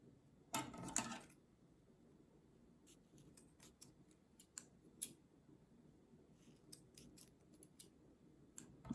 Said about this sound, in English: Just go through any one of the stitches and make a cut.